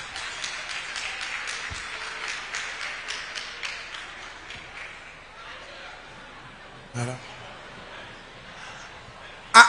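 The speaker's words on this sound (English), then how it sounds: "I think that was a very weak clap." Thin, scattered applause from an audience at a public engagement event with small scale miners, artisans and youth groups, a weak patter of clapping that fades out, with a brief thump near the end.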